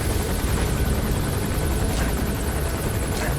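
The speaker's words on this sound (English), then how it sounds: "And we can just fucking take this chopper down." A helicopter in the video game Metal Gear Solid V: The Phantom Pain, its rotor and engine roaring loudly and steadily at close range.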